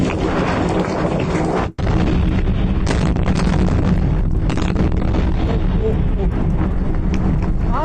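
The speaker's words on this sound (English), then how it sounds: "Wow, listen to those explosions." Explosions from military strikes near Kish Island rumble as a dense, loud, continuous roar of booms and blast noise, heavily distorted, with a brief dropout early on.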